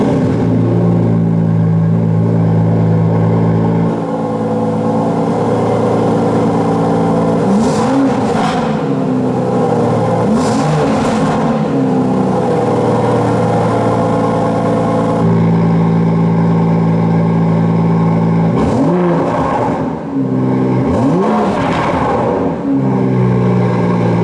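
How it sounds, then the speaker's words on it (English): A 2019 Aston Martin DB11 AMR sports exhaust idles steadily and is then blipped through several sharp revs, first with the valves closed and then with them open for a louder, harder note, recorded close with no talking. "Let's now hear how the car sounds, first with the valves closed and then open."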